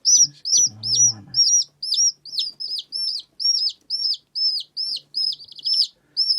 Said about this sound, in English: the teeny tiny one, he's actually the loudest, got the loudest chirp, and he just chirps and chirps.